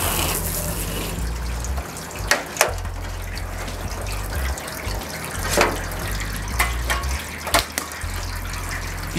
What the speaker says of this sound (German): ich sprühe jetzt hier hinten und das Wasser kommt mir entgegengelaufen